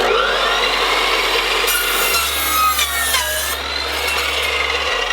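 An Evolution EVOSAW380 15-inch steel-cutting saw slicing through wood, a loud, continuous high-pitched whine and rasp that holds steady for several seconds, close up with no speech.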